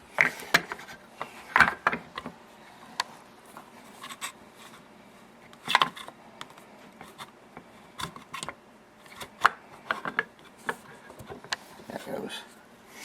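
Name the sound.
hammering a pin out with a punch on an AR15 upper receiver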